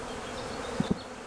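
Bees from a collected swarm hum in a steady, low, even drone, with two brief soft knocks as a hive frame is set down near the end.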